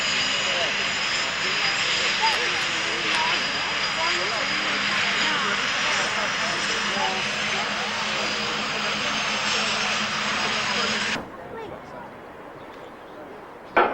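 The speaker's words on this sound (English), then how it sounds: "Take off in close formation, 8 aircraft in front and 300 yards behind, 8 other aircraft in white smoke." Patrouille de France jets take off in close formation at an airshow, a loud sustained jet roar that cuts off abruptly near the end, leaving quiet.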